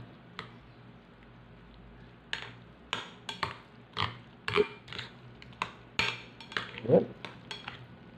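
A spoon scrapes and clinks against a bowl while chicken and egg sandwich spread is mixed, giving a series of irregular knocks and scrapes that grow busier and louder toward the end, with no talking.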